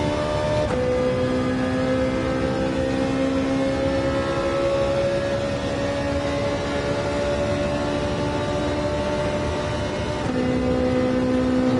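A Ferrari race car roars in Gran Turismo 7 during a Daytona daily race, a loud, sustained engine drone holding one gear with a rising pitch. A sudden shift in tone comes near the start and again near the end, with no voices.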